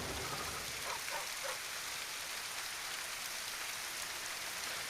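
Steady, soft rainfall hisses evenly throughout, a constant wash of patter with no voices, rain in the video game The Witcher 3.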